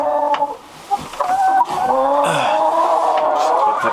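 Backyard chickens on an urban homestead cluck and squawk close by, a busy run of overlapping calls with a few sharper, louder cries.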